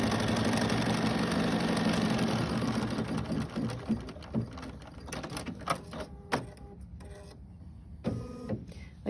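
A quilting embroidery machine runs a placement line to tack fabric down in the hoop, humming and stitching rapidly at first, then slowing into uneven bursts of needle clatter with brief pauses near the end.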